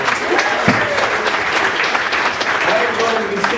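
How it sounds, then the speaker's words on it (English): A comedy club crowd at a brewery gives a round of applause for the host, dense continuous clapping with scattered cheers filling the room for several seconds. "Give a round of applause for your host."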